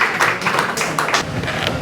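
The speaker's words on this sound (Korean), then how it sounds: "박수로 좀 맞아주시고" A studio audience at a Korean talk show gathering claps to welcome a speaker to the microphone, a brief burst of close, dense clapping.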